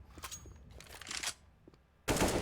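AK rifle gunfire during a Counter-Strike match: a few sharp, close shots, then a short lull, then a loud sustained burst to finish.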